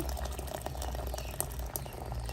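Water boiled in an electric kettle and poured into the rice flour for Jaffna string hoppers, making a close, continuous bubbling, splashing liquid sound at a steady level.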